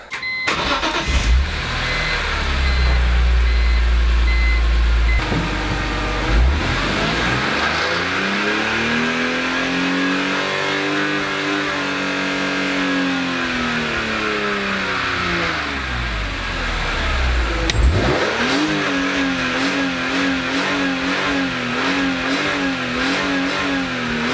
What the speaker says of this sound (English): Gonna do some revs, run it through some of the rev ranges, all in neutral.